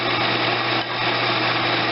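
A wood lathe cuts steadily while turning a long-handled spoon, giving a continuous close, bright whirring hiss with a low steady hum beneath it and one brief dip midway.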